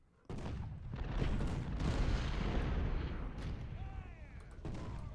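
American Civil War infantry units firing in the Ultimate General strategy game: a sustained rolling fusillade of musket volleys and booms that starts abruptly and stays dense and loud throughout, with a faint whistling streak late on.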